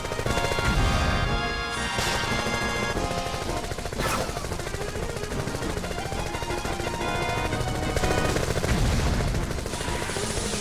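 Dense, continuous bursts of rapid gunfire in a modded Final Fantasy VII game, with sharp cracks and heavy impacts, loud and relentless, layered over a busy backdrop of game effects.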